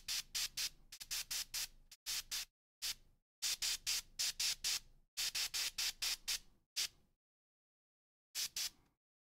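An airbrush spraying acrylic paint onto troll flesh on a miniature hisses in short, sharp bursts of varying length, several quick pulses in a row, a pause, then one final burst, close and alone.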